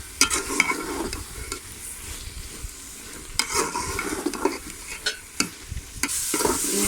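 Grated carrots frying in ghee for gajar barfi, stirred with a spoon in a pan: a steady soft sizzle with repeated scraping stir strokes, close and moderately quiet.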